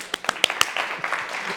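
A few sharp claps start off, then scattered applause follows, short and moderately close.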